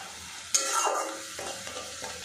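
Spice masala with red chilli powder and a little water being stir-fried in a pan, a sudden sizzle as the spatula starts scraping, then steady stirring scrapes and soft frying hiss, close and alone.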